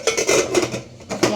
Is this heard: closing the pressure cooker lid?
yes